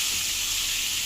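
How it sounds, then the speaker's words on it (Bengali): Pointed gourd pieces fry in plenty of oil with salt and turmeric, making a continuous, even, hissing sizzle that stays steady throughout the short stretch, with no voices. "লবণ হলুদ দিয়ে এখন আমরা পটলগুলোকে ভাজিয়ে নিচ্ছি।"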